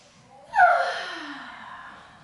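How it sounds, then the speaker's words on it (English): One deep breath is drawn in sharply and close by, swelling quickly and then trailing off slowly, during a children's calming movement exercise. "I can cross my arms and breathe in deep."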